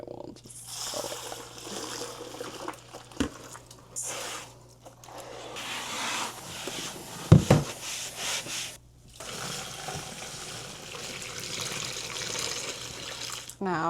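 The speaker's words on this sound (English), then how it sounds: "our bowl has been rinsed, not soaked" Running water rinses an antique wooden salad bowl, making a continuous splashing wash with a few brief breaks and clatters, and a quiet voice is faintly present.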